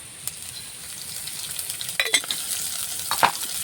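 Chopped onions and chilies fry in oil, a soft continuous sizzle broken by a few clinks and scrapes of a utensil stirring the pan.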